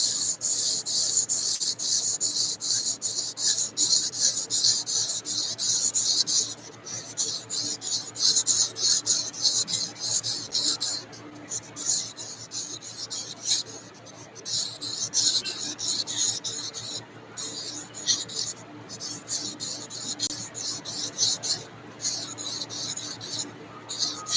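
Sandpaper rubbed back and forth over metal PTO gear parts, a close, continuous rasping scrape with brief pauses, steady and fairly loud throughout the stretch.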